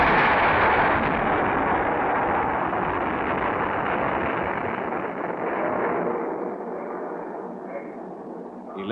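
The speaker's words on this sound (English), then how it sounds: "11 a.m., missile fired at Woomera, the Australian guided weapon range" A guided missile fired at the Woomera weapons range in Australia roars as a broad, loud rushing blast that slowly fades and thins over several seconds, with no voices.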